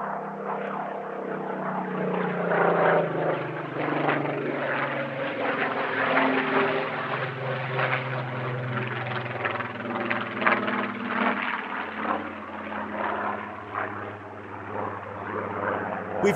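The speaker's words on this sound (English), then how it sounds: "But enjoy, on this occasion, the sound of the Griffin uninterrupted" A Rolls-Royce Griffin piston engine drives a PR-19 Spitfire through a flypast at an airshow, a loud, steady propeller drone with a slowly shifting pitch that swells and holds for the whole stretch, with no talk over it.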